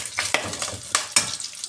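Hot cooking oil crackles and sizzles in a pan while sautéing for pinakbet, with a steady hiss broken by sharp pops and a few stirring scrapes.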